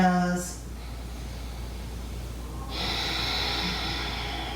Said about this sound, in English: Turn on Ujjayi breath, breathing with sound. In the nose, out the nose.